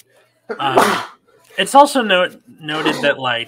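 A single sharp sneeze bursts out, followed by someone speaking in a conversational tone, with another voice answering briefly.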